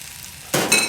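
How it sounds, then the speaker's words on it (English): Cranberry sauce with apple and sugar hits a sudden bubbling sizzle as it is stirred in a pot, starting abruptly partway through and continuing loudly and close up with no voices. "Now you want to start slowly stirring. This is going to start boiling down really quick."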